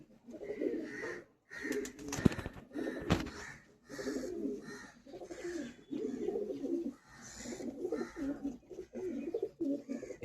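Madrasi pigeons coo close by in repeated soft, throaty bursts with short pauses, and a few sharp rattling knocks sound early on.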